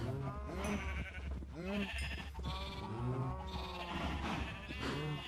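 Sheep bleating in the Minecraft video game, several overlapping wavering bleats repeating throughout at close range over a steady low game background hum, with no talking.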